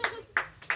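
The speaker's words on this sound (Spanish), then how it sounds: "¡Aplaudan!" A few hand claps, roughly three sharp slaps spaced apart, close and fairly quiet, with a sense of several people joining in.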